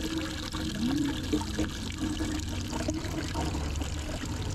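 Water running slowly from a kitchen tap, a steady, gentle trickling flow that goes on without a break, close by with no voices.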